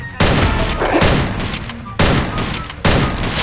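Bursts of gunfire from a bot in the Free Fire video game, loud and close. There are three heavy volleys of rapid shots, each with a brief gap before the next.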